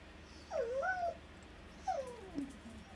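A dog whimpers to be let outside, giving two separate high, rising and falling whines about a second apart, close by and clear, with no talking.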